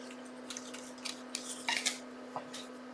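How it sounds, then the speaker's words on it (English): Scissors snipping card down to size for a folded greeting card, several short crisp cuts in a loose irregular run, close and quiet over a faint steady hum, no speech. "So now I'm going to just cut that down a bit because we don't want it too big."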